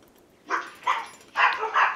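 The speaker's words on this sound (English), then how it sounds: "Excuse the barking." A household dog barks at the arriving mailman, giving four sharp, loud barks in two close pairs against a quiet room.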